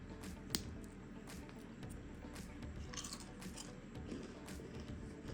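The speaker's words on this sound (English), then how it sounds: "Listen for the crunch." Close, quiet crunching of carnivore meat crackers being bitten and chewed, with soft, repeated bites over steady background hiss.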